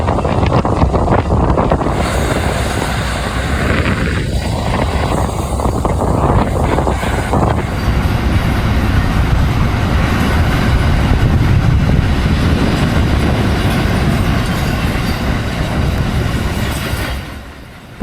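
A very long freight train rolls past in Australia, a steady loud rumble and rattle of wagons with wind buffeting the microphone, fading out at the end.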